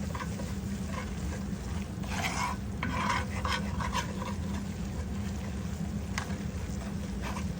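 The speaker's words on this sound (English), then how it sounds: "And it's browning as it's in this skillet too." Flour browns in a skillet for homemade white gravy after steak bites were fried in it, with a constant soft sizzle under repeated scraping strokes of a stirring spoon, close and fairly quiet, with no voices.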